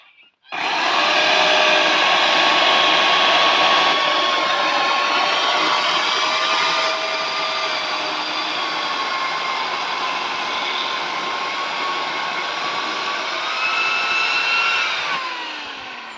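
A power saw runs steadily at a high, even whine while cutting firewood for winter, loud and close, holding its pitch for about fifteen seconds before winding down.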